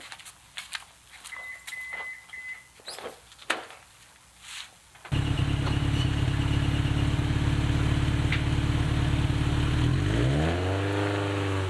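A Subaru GV WRX engine on a cold day, climbing onto rear ramps: quieter clatter at first, then a loud, steady engine drone that swells with rising revs near the end, close by with no talk.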